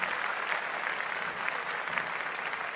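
Audience applause after a podcast host's call to clap, a steady, fairly faint wash of clapping holding evenly for a few seconds without talk.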